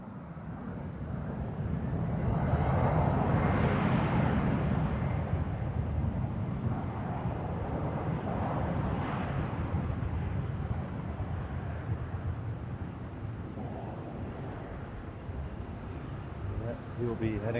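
At Frankfurt Airport, a jet airliner produces a broad, steady roar that swells and holds for many seconds at moderate distance, with wind buffeting the microphone and faint voices underneath.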